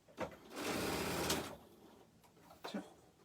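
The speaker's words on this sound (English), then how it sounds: "then I start sewing" Sewing machine stitching quilt patches for a four-patch block, one sustained run of rapid stitching about a second long, bracketed by soft handling clicks of fabric and machine, close and fairly quiet.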